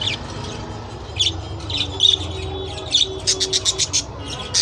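Budgerigar chicks and adults chirping inside a nest box, with repeated high, rapid tweets and squawks that come close and fairly loud, in bursts over a low steady background hum.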